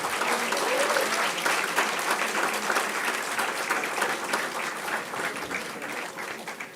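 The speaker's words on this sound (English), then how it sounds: "Big round of applause, please." A large crowd applauds steadily during an award presentation at an MBA convocation ceremony. The clapping is dense and continuous at an even level, then softens slightly near the end.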